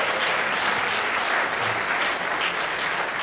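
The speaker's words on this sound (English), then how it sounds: "Give yourself a round of applause if you're nominated in one of those categories." Dense, even applause fills the room at a national hospital radio awards ceremony as the nominees are acknowledged, steady clapping from a large audience with no voices above it.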